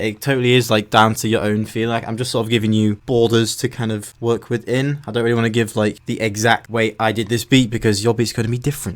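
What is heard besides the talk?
None of the usual background noises is heard.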